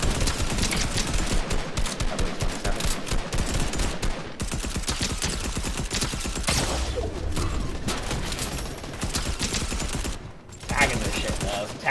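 Rapid bursts of SMG gunfire in the Fortnite video game rattle almost nonstop at close range, loud and dense, with brief gaps between volleys and other game sounds mixed in.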